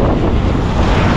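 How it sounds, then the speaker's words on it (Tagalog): Strong wind buffeting the microphone near Mayon Volcano in Albay, a loud continuous roaring rush with no pauses and no voices. "malakas yung hangin"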